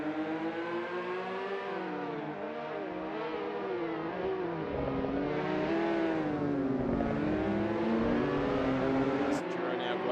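Can-Am mini street fighter race cars drive around a hairpin at a race in Adelaide, their engines holding a steady, droning whine that rises and falls through the corner, heard under continuous commentary.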